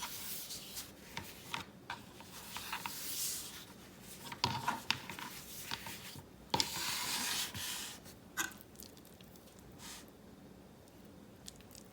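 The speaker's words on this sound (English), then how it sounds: "here's one of the phyllo sheets. I'm gonna fold it 3 times." A phyllo pastry sheet is folded by hand on parchment paper over a board, giving soft, close crinkling and rustling with a few sharper crackles, fairly quiet throughout.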